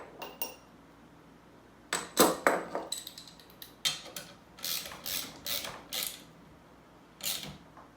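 A nut tightened on a homemade climbing stick with a ratchet, giving bursts of quick clicking ratchet strokes with short pauses between them, close but fairly quiet.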